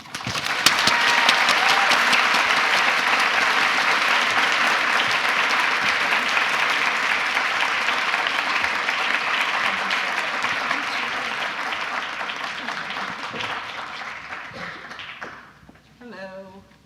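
Sustained, loud applause from a university audience welcoming author Roxane Gay to the stage, steady dense clapping with crowd noise that fades out near the end.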